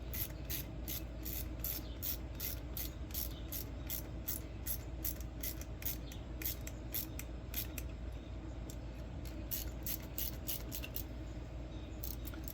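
A ratchet wrench clicks through a final tightening, giving a long run of evenly spaced, sharp close-up clicks over a low steady hum.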